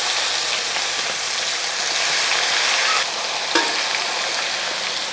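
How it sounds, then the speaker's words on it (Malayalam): Steady, dense sizzling of chicken deep frying in hot oil, continuous and close, with a brief clink or stir partway through. "രണ്ട് ട്രിപ്പിന് വറുത്തെടുക്കാവുന്നതാണ്"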